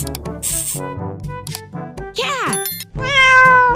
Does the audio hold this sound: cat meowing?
yes